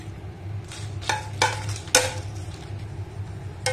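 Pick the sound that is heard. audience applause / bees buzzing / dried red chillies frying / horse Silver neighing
dried red chillies frying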